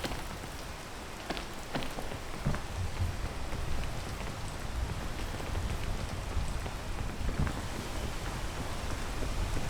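Rain falls steadily in a video game scene, a continuous soft hiss of drops on surfaces with occasional sharper patters, moderately quiet and without speech over it.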